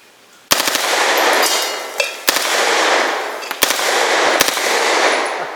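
Automatic bursts of gunfire from a home-defense gun fired outdoors at targets, four loud rapid-fire bursts with sharp cracks, each trailing into a long rolling echo, no talking.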